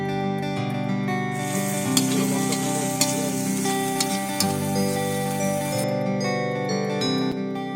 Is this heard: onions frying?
yes